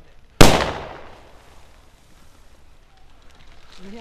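A single loud, sharp airsoft grenade blast goes off during an airsoft skirmish near a basement, bursting close by and then fading into a long decaying tail, with quieter movement and faint activity afterward.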